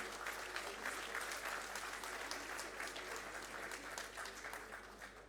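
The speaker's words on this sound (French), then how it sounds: "Donc autant vous dire que ça mérite des applaudissements, s'il vous plaît." Sustained audience applause at a French industry conference talk, a dense, even wash of many hands clapping throughout, heard from a distance under a low steady hum.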